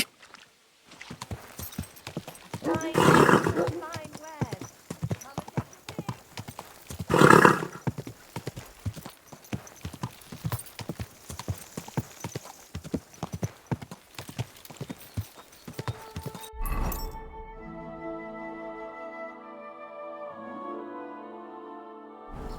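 Horse hooves clip-clopping in the video game Kingdom Come Deliverance II, a close, brisk run of hoof strikes with a couple of louder bursts, a faint whinny, and music taking over near the end.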